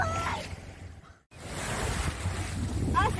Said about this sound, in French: Allez, les grosses vagues.